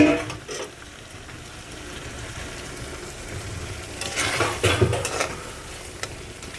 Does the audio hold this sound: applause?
no